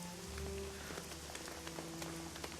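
Rain in the video game Shadowrun Hong Kong, a quiet continuous patter of drops with faint light ticks over a low steady background hum, no voices.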